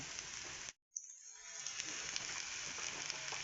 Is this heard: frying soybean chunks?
yes